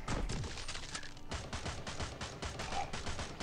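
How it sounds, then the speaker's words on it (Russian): Rapid bursts of loud freeze-gun fire in Swamp Attack 2 with a dense, continuous crackle, like an automatic weapon firing steadily for several seconds. "у Ларри намного лучше пушка замораживающая вот эта вот"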